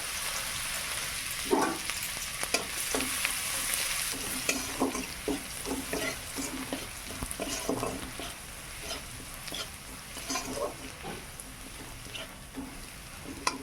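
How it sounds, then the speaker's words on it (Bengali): Minced garlic sizzles in hot oil in a pan while cooking restaurant-style chicken lollipop, a steady bright frying hiss broken by repeated stirring scrapes, close and continuous without talk. "তেলটা গরম হয়ে গেছে, আমি একটু রসুন কুচি দিলাম।"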